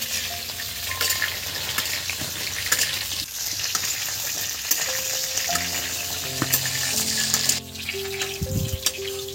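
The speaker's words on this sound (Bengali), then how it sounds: "বন্ধুরা ফুলকপিগুলো দেখুন বন্ধুরা ভেজে আমি তুলে নিচ্ছি" Cauliflower florets frying in hot oil, a dense continuous sizzle and crackle with occasional stirring clinks and a brief splash of water, close and steady throughout.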